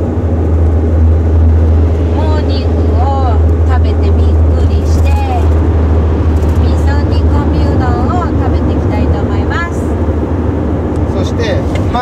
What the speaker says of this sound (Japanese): 夜の11時30分に家を出発して、今中央道を走っています。